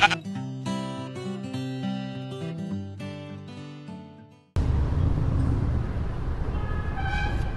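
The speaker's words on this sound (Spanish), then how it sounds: "La oveja. Pronto la conocerás." A sheep gives a short bleat near the end, after a tuneful musical passage cuts to a noisy outdoor background.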